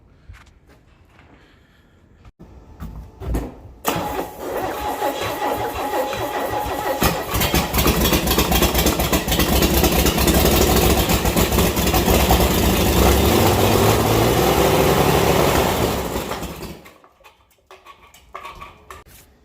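A Chevrolet 250 inline-six with a welded-back-together camshaft cranks, catches, and runs at a loud, rough idle for about twelve seconds before cutting out. Heard close up, with no voices.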